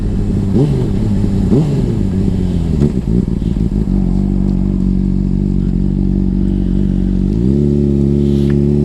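A 2009 Honda CBR 600RR sport motorcycle roars loudly and close while riding, its engine note climbing through quick revs and gear changes before settling into a steady high drone.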